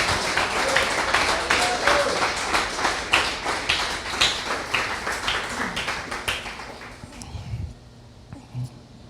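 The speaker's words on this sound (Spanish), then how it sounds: "Dale un gran aplauso al Señor" A church congregation applauds together in dense, sustained clapping that carries strongly for about seven seconds, then thins into scattered claps and a few low thumps as it fades.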